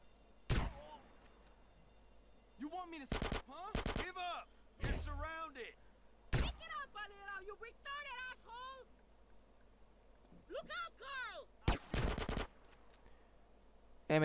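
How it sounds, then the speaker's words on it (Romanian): Shotgun fire in GTA San Andreas: several loud, isolated booming blasts spaced irregularly, with someone talking between and around the shots. "E bine să folosești shotgun-ul."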